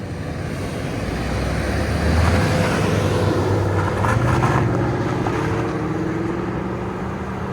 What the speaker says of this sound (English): Flowmaster X in the middle, and X-Force mufflers, valve mufflers in the back, with valves closed